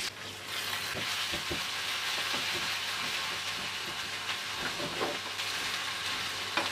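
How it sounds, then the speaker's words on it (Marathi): Mustard seeds, curry leaves, crushed ginger, garlic, cumin and dried red chillies sizzle steadily in hot oil, a close, even frying hiss with scattered small pops and no talking. "आता बघा फोडणी थोडीशी परतली"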